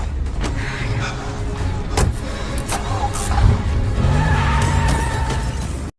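A car taken from a robber drives off in a San Andreas earthquake film, its engine running steadily and loud, with a swell of acceleration and brief tire and mechanical noises, no voices.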